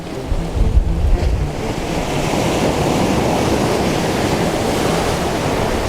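Ocean swells wash over slippery shoreline rocks in a loud, continuous roar of surf, with an early surge of rushing water and wind buffeting the microphone.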